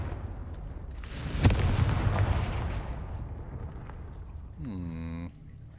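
The Confringo fire spell going off in Hogwarts Legacy: a sudden booming blast with a roaring, crackling burst that slowly fades, followed by a short rising tonal chime near the end.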